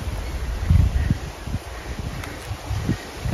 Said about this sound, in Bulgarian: Малко духа.